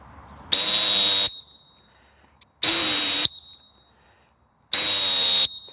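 A coach or referee whistle sounds three times in a 20–25 metre distance test, each blast a loud, shrill, steady tone lasting under a second and separated by about a second of silence.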